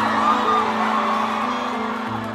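Concert crowd at a show singing the Friends theme song together, a massed chorus of many voices with whoops rising over it, loud and sustained.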